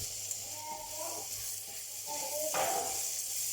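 A pork roast sears in a hot pan, a loud continuous frying hiss that swells louder near the end as the temperature rises.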